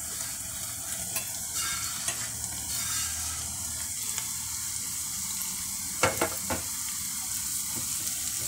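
Pieces of pesarattu, a green gram crepe, frying in a pan, with a constant oily sizzle and occasional scraping stirs of a spoon against the pan, close up and with no talking.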